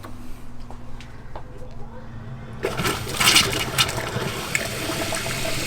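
Water from a tap in a converted school bus bursts on suddenly partway through after the water pump is switched on, settling into a steady, fairly loud rushing flow over a low background hum.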